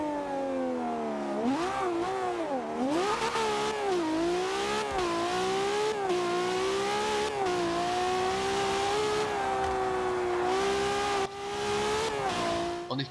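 A car engine revs and accelerates steadily while driving straight cross-country in the racing video game Forza Horizon 2, the pitch rising and falling with gear changes, continuous and close throughout.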